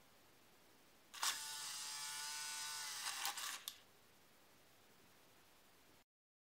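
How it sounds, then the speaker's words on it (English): Small steering motor on a WLtoys six-wheeler RC rover keeps whirring after hitting its end stop, a loud, bright, buzzing whine lasting about two and a half seconds, then cutting off to quiet. "You can hear the steering motor still running, even after the end position is reached."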